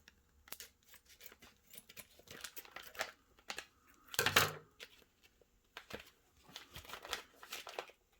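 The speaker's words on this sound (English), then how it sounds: "I'll just cut this little hole." Plastic vacuum sealer bag being cut with a small snip, crinkling and rustling in short bursts with one louder crunchy cut near the middle, close and fairly quiet, no talking.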